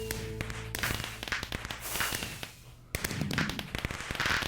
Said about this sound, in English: It keeps playing fireworks.